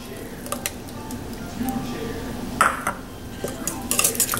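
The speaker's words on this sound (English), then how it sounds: "Just stir it in a little bit." Batter being stirred in a bowl after a cup of buttermilk is added for Southern fried chicken coating, with soft clinks and scrapes of a utensil against the bowl under faint background voices.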